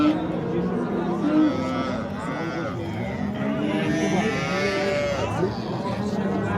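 Cattle moo repeatedly at a busy livestock market, long drawn-out lowing calls at moderate distance over a background of crowd chatter and voices.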